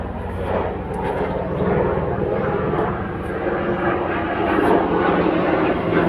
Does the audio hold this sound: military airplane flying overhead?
yes